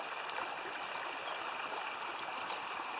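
Creek water at Bull Creek runs steadily with a soft, continuous broadband rush, fairly close and moderately quiet, with no voices over it.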